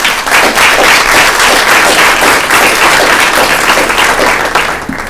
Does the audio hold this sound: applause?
yes